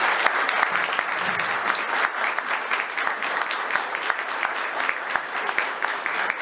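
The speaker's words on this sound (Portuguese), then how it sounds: "Esse aplauso é para casa." An audience at a public lecture claps in a sustained round of applause, with many hands producing a dense, even patter and a few sharper individual claps standing out.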